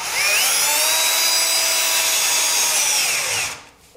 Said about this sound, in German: nehmt euch einen Halter, eine passende Schraube und schraubt das Ganze fest